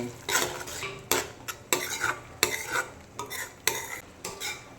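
A spoon stirs spices into black chana masala in a metal pot, repeated sharp scraping clinks in an uneven rhythm, close and clear over a faint sizzle, with no voices.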